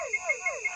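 A frog calls at night in the countryside: four quick, evenly spaced chirping pulses over a faint, steady high insect drone, soft and somewhat distant.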